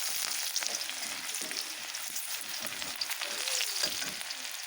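Chopped onion dropped into a hot wok sizzles steadily and loudly, a dense continuous frying hiss with faint stirring scrapes throughout.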